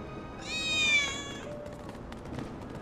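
A cat meows in Final Fantasy VII Remake, one clear drawn-out mew lasting about half a second, up close and alone over a low ambient background.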